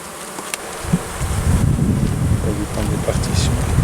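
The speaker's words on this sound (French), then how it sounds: "C'est vrai que cette année-ci, on a eu des abeilles vraiment gentilles." Honeybees buzz steadily around an open beehive, a dense, close droning hum with wind rumble and brushing noise over the microphone.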